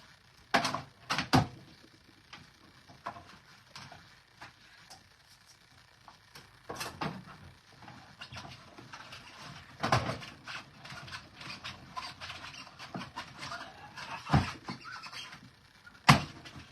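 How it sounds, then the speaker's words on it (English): A Stampin' Up! die-cutting and embossing machine rolls cardstock through its rollers, giving a steady mechanical grinding hum broken by several sharp clunks and clicks, close and moderately loud, with no talking. "I'm going to put it in the machine, and we're going to roll it out and cut it"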